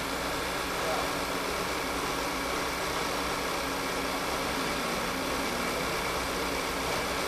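A Volkswagen Tiguan engine idles erratically from a faulty valve cover diaphragm, with a constant mechanical hum and slight vibration, close by, with no talking.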